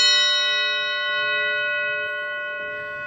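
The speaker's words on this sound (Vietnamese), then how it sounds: "Cái chuông cổ vẫn còn." Old French-made bell on a Vietnamese horse-drawn carriage cab rings with one clear, sustained metallic tone that hums steadily and slowly fades, heard alone and close.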